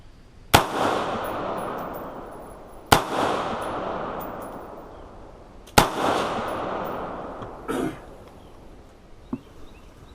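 Three loud, sharp rifle shots from a 20-inch 5.56 NATO upper with iron sights at an outdoor range, evenly spaced a few seconds apart, each ringing out and decaying, followed by fainter metallic clanks.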